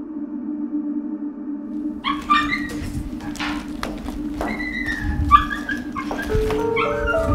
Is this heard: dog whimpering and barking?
yes